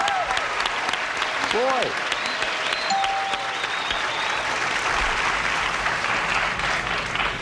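Studio audience applause on the 1981 game show Blockbusters, a steady, dense burst of clapping filling the whole stretch, with a brief spoken word from a man near the start.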